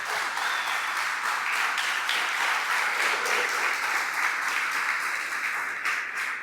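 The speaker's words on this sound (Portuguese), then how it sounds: "Dá um aplauso ao Senhor Jesus." A church congregation applauds, a full, even wash of clapping from many hands that stays loud and steady throughout before easing slightly at the end.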